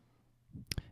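A computer mouse clicked at a desk, two quick close clicks near the end of an otherwise quiet moment.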